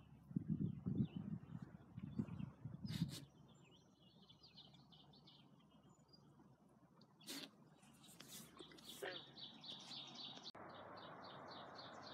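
Birds chirp and tweet in short bursts near a kayak on the water, with faint paddling and water sounds beneath the calls.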